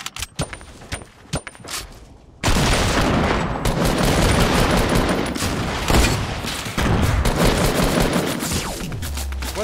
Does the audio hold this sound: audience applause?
no